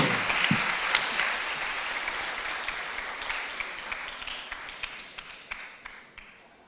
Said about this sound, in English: Have a round of applause for